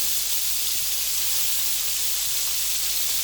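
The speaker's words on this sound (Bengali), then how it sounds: "এখন এটা আমরা তেলে ভাজবো।" Pangas fish frying in a hot pan of oil, giving a steady, even hiss and sizzle that stays constant and fairly soft throughout the short clip.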